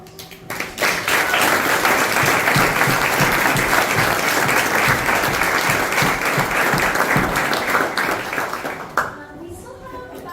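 A conference audience applauds loudly and steadily for about eight seconds after a talk on a tree nursery's legacy, the clapping dense and continuous before it breaks off near the end.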